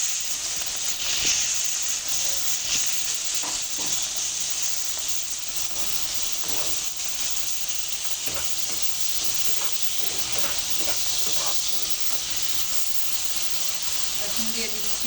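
Prawns fry in hot oil for a Bengali prawn curry with greens, giving a steady broad sizzle throughout with faint scattered clicks and scrapes of stirring.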